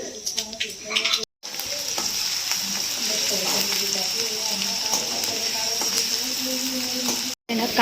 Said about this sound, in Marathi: ते थोडं परतलं गेलं की मग कांदा परतून घ्यायचा आहे